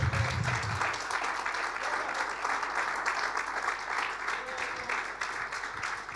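A church congregation claps in praise, steady continuous applause filling the room at moderate distance, with a brief low rumble at the start.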